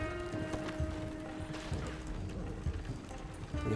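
Hooves of a horse galloping in Red Dead Redemption 2, a steady clip-clop rhythm running throughout beneath a low rumble and faint background game noise, with no voices over it.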